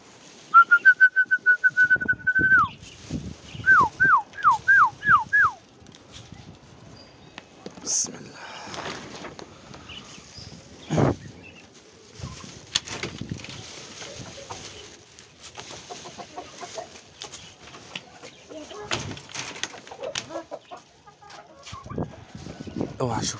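Birds call and chirp in a barnyard with ducks, with whistled trills early on and clucking fowl scattered throughout, while people talk nearby.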